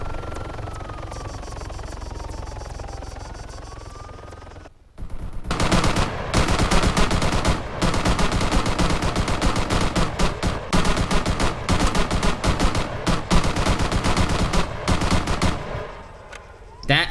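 A light machine gun fires in Arma 3 Altis Life, starting after a muffled helicopter-like drone as loud, rapid sustained bursts with short pauses, close and dominant throughout.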